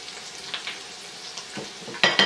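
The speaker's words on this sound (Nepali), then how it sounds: "हिट चाहिँ हामीले मिडियम टु लोमा राखेर यसलाई फ्राई गर्नुपर्छ" Potatoes fry in a pan over medium-low heat, a soft steady sizzle with a few louder crackling bursts near the end.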